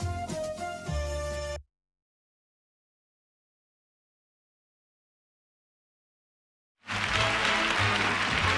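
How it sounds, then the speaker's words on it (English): Loud clapping and applause in a radio studio, a dense burst that bursts in after a long silence, with brief music heard before the pause. "they're so loud with the claps"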